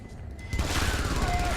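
Smart gun from the video game Aliens vs Predator firing a sustained, loud automatic burst that kicks in abruptly partway through and keeps rattling to the end.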